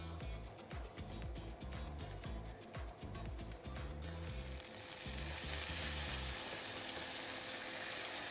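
Broccoli gnocchi fry in a pan with a steady sizzle, punctuated by rhythmic scraping and stirring knocks, before the sizzle swells louder and brighter near the end.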